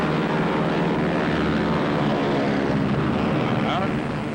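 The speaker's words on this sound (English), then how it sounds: "Over here, it's with a real McCoy, such as this captured Ju-88." Captured Junkers Ju-88 aircraft, a steady loud propeller engine drone with a dense rough texture, holding at constant level throughout and sounding close.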